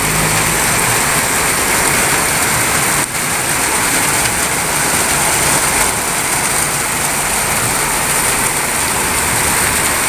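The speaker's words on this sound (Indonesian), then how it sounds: "Hujannya tambah deras guys" Heavy rain pours down at night in a steady, loud, unbroken hiss that lasts throughout, with no voices heard.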